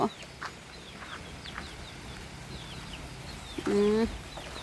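Chickens cluck softly and repeatedly in the background, with a louder, drawn-out call near the end, over steady outdoor ambience.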